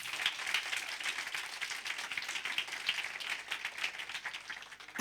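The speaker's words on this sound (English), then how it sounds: "Let's just give them a round of applause." An audience at an event for the Nelson Mandela Children's Fund gives a round of applause, quiet and somewhat distant, the clapping steady and even for several seconds.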